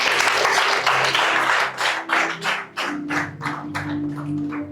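A church congregation at a worship service claps and cheers loudly, with bursts of applause, some rhythmic clapping in time and voices rising through the crowd, all close and full-bodied for several seconds.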